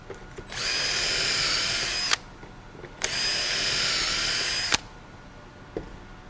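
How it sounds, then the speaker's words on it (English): A power drill bores pocket holes in a board clamped in a pocket-hole jig, in two loud, steady high-pitched whining bursts of about two seconds each, with short clunks and a pause between them. "A nice system to actually clamp your board into the jig itself, and then you're ready to drill."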